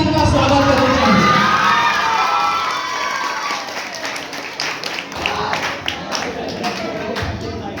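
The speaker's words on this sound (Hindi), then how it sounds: "तालियों के साथ इनका स्वागत करना चाहिए।" A crowd at a school Republic Day event claps and cheers to welcome a speaker, loud at first and then tapering, with children shouting among the applause.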